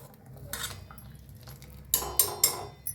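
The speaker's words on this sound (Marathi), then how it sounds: "हलवून घेऊया." A metal spoon scrapes and clinks against a pan of egg masala curry being stirred, a few separate knocks and scrapes, then a quick cluster of sharper clinks, close and moderately loud over a low background hum.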